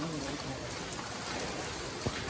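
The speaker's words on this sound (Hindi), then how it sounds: "ये बाहर बारिश हो रही है।" Heavy rain pours steadily outdoors, a constant dense hiss of drops with a brief sharper splash near the end and no voices.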